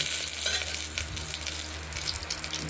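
Dry chilli, bay leaf and cumin fry in oil inside a pressure cooker, making a close, steady sizzle and crackle throughout with no talking.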